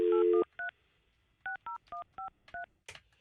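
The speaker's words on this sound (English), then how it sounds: "calling Julian's cell phone" Telephone keypad tones dial a cell phone, one long tone and then a quick irregular run of about eight short beeps, clear and close with near silence between them.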